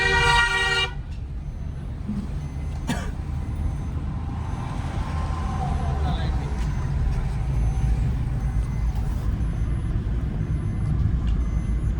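A vehicle on the road to Mana village, with a short sharp horn toot at the start, then a steady low rumble of engine and traffic noise throughout, with a faint extra honk partway through and no clear speech.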